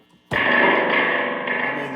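A distorted electric guitar chord through a Fender Blues Junior amplifier bursts in and rings out with a heavy, washy reverb tail that sustains loudly to the end.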